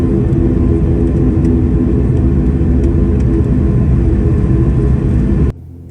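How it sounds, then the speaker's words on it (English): Steady loud engine rumble inside an ATR 72 turboprop cabin waiting to take off on the runway at Belfast City Airport, a continuous low drone that cuts off abruptly near the end. "But here we are about to take off on runway"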